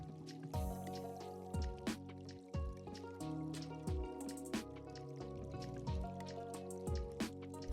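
Dark purple resin poured into the center of a silicone mold: a steady thick pour with repeated glossy drips and squishy plops at a slow rhythm, close and moderately quiet, with no voices.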